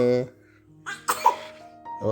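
A child coughs in a sharp burst amid nearby voices, with brief breathy sounds before and after during an outing in Kandy.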